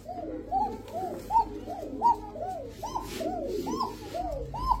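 A Koka breed racing pigeon coos repeatedly at close range, about a dozen rising, rolling coos in a steady rhythm over a quiet background.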